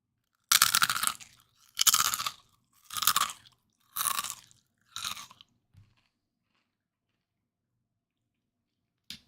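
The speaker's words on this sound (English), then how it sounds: "And then I'm gonna eat the chip close to the microphone." A spicy chip crunched and chewed right at the microphone, with five loud crisp bites in a steady rhythm about a second apart and silence after.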